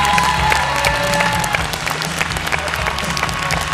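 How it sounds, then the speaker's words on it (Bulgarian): Loud, dense applause and cheering fill a Miss Bulgaria 2013 pageant hall as a crowd claps for a contestant, steady throughout with scattered shouts and music-like tones beneath. "Аплодисменти още веднъж за Джулия!"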